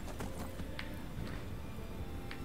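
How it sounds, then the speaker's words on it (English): A horse galloping in Skyrim, modded as Super Mario Skyrim Galaxy: a quick, steady run of muffled hoofbeats under low background noise, faint and continuous. "I think you can dash on the horse, too."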